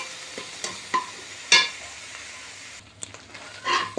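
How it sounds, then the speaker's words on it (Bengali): Dried shrimp fry on low heat in a pan with salt and turmeric, a soft, faint sizzle broken by a few sharp scrapes and clinks of a utensil stirring against the pan. "এখন একটু লবণ হলুদ দিয়ে আর একটু ভাজা ভাজা করে নেব।"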